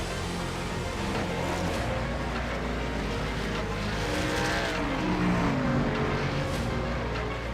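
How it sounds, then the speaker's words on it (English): A dense pack of stock cars roars around the track in iRacing's NASCAR Xfinity Series, engine drones layered and sustained at steady loudness with pitch shifts as cars pass close by. "Y'all hear that? Cars back on track."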